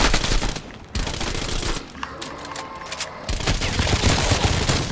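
Dense, rapid bursts of automatic gunfire from a new gun in the zombies mode of Black Ops Cold War, loud and continuous, easing briefly in the middle before the full barrage resumes.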